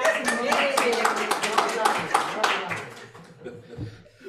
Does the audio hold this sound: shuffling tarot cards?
no